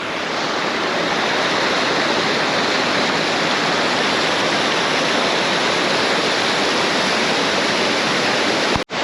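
River swollen and reddened by rain on a bamboo trek in Meghalaya, giving a loud, steady, broadband rush of flowing water with rain, unbroken for the whole stretch and cutting off abruptly at the very end.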